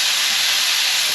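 Garlic and chilli sizzling in a hot pan, a loud continuous bright hiss heard close up.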